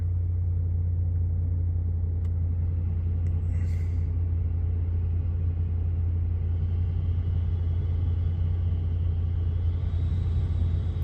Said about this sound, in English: let's hear how the new blower motor sounds